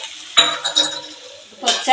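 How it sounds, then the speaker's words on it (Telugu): A lid set onto a cooking pot while making village-style pappu charu (lentil rasam), giving a couple of sharp metallic clinks and clatters amid faint kitchen handling. "కొంచెం మూత పెట్టుకుందామండి."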